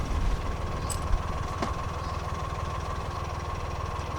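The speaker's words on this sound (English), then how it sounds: "Bit of reverse, just to try and keep the boat steady." A narrowboat's engine runs steadily in reverse on a canal, a low, even chugging idle close by with faint knocks and vibration and no talk.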